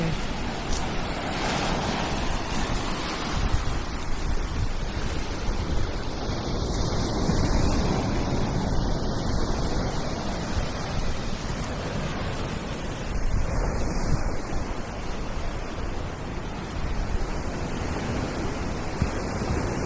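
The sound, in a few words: sea waves at the beach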